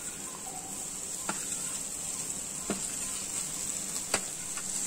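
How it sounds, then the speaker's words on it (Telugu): Powdered egg yolk fries in hot oil with a steady, fine sizzle. There are a few soft clicks from stirring, and no one speaks. "ఈ మన ఎగ్ ఎల్లో వేసుకున్నాం కదండి దీని కూడా మనం ఫ్రై చేసుకోవాలి కొంచెంసేపు"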